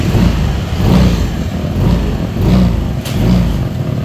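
A Yamaha Aerox scooter engine running at a high, steady idle right after starting, loud and close, with a continuous drone that swells slightly in repeated waves.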